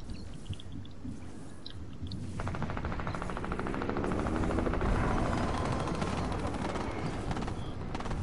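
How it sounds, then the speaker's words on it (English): A helicopter in a video game with a steady rotor thrum that grows louder and closer midway through, with rapid chopping and a mechanical rumble running throughout. "I'm gonna destroy his helicopter."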